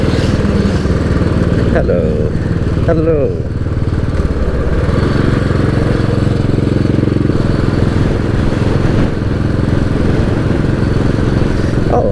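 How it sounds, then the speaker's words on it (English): Motorcycles at an Irish motorcycle show rumble steadily in the background throughout, a continuous engine drone under crowd noise, with a person briefly speaking over it. "Motorcycles."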